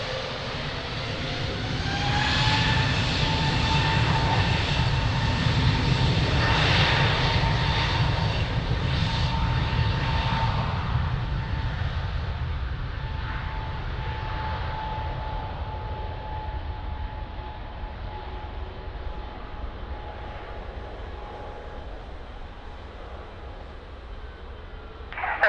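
Aircraft engines roar during a takeoff at Lisbon Airport, a loud sustained rumble with a high whining tone that slowly fades as the plane moves away, heard alone without talk.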